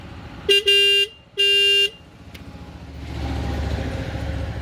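Two loud, sustained horn blasts from a 2022 Royal Enfield Bullet 350 EFI motorcycle in quick succession, followed by its quieter engine idling and revving nearby.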